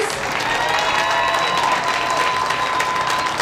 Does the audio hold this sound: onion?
no